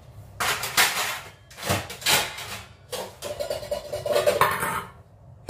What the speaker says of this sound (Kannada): ಈಗ ಪಾತ್ರೆಗಳನ್ನ ಜೋಡಿಸ್ಕೊಳ್ತೀನಿ.